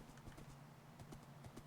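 A horse clip-clops in Minecraft, its quiet hoof steps tapping in an uneven rhythm over a faint low background.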